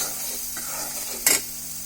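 Spice paste with ginger-garlic paste fries in a pan as a soft, steady sizzle, broken once by a brief, louder scrape of a spoon stirring it, with no one speaking.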